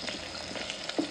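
Onions frying in a pan for sambar, with a soft, steady sizzle and faint crackle, quiet and close.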